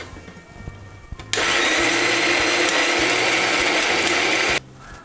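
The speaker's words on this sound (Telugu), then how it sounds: "కొద్దిగా నీరు చేర్చుకుని మిక్సీ వేసుకుంటే మెత్తగా మెదుగుతుంది." A mixer grinder grinds coconut chutney with a little water added, a loud, steady, high whir that switches on abruptly, runs for about three seconds and cuts off sharply, with quiet room noise before and after.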